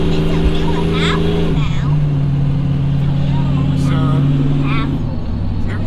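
Supercharged (ProCharger) Chevrolet Trailblazer under full throttle, a loud steady engine drone heard from inside the cabin with a pitch shift as it shifts gears partway through, continuous throughout, with faint voices beneath.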